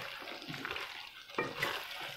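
Chopped bell pepper cooking in a pan for a chicken and vegetable dish, giving a soft, steady sizzle with a stir or clatter partway through, close and moderately quiet.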